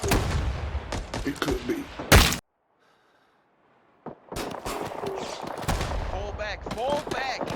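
Gunfire in the Vietnam War shooter Rising Storm 2: Vietnam comes as loud bursts of rapid automatic shots, then a sudden silence of about two seconds, then more heavy firing, with someone speaking briefly amid the shooting.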